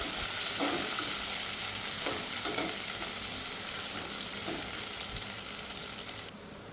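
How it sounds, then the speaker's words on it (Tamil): Frozen green peas stirred into a hot pan for coconut milk rice, a steady sizzle of frying with soft scraping stir strokes recurring throughout, close and continuous. "ஃப்ரோசன் பட்டாணி அப்படி போட்டு நல்லா கிளறிக்கலாம்."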